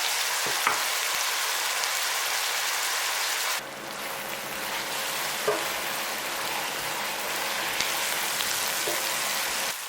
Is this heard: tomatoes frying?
yes